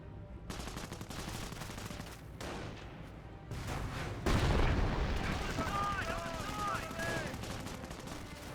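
An artillery barrage in the World War II strategy game Company of Heroes pounds away with repeated booming explosions and crackling gunfire, swelling into a heavier blast midway, while a voice talks over the battle.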